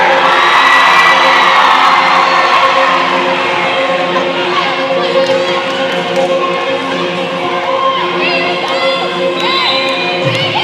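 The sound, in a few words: Jamestown fans in a gym crowd cheering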